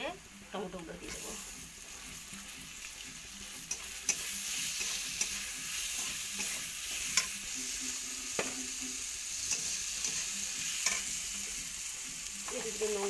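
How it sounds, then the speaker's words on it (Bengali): Ginger and tomatoes fry and sizzle in a pan for a hinchar broth with rohu fish, a steady close hiss with repeated scraping of a spoon stirring through, running the whole time. "আদাটা ভালো করে ভেজে নেবো"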